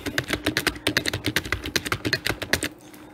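A computer keyboard is tapped in a quick, uneven run of about twenty crisp, close key presses for copy and paste, then the typing stops near the end.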